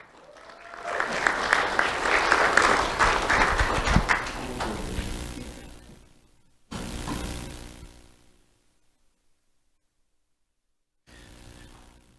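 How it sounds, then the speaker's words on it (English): Audience applause for a school award recipient at a ceremony, a dense burst of clapping that swells loudly for several seconds, then drops away, with a brief later return and near silence between. "Let's have a round of applause for Levi Peterson."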